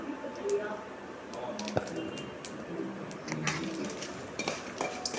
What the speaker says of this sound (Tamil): நல்லா சிம்மில் வச்சு வறுக்கணும்